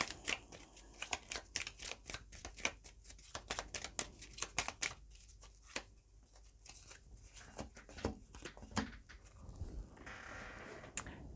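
Lenormand cards being shuffled by hand close up, a rapid series of crisp papery riffles and slaps, dense at first, then sparser with short pauses, ending in a soft sliding rustle.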